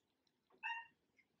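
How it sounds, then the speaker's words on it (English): A small kitten gives a single short, thin meow a little in the background over faint room noise. "if you heard a little meow in the background"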